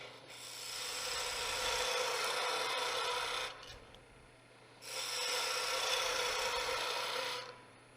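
A skew chisel shaves wood on a lathe in a peeling cut, making a loud, steady rasping hiss for several seconds, a brief break, then a second long pass of the same sound.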